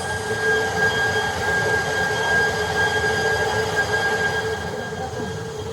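The turbine of a micro hydro power plant at Wairwa near Bajawa runs nearby, a loud, steady roar with rushing noise and a high whining tone, filling the room without pause.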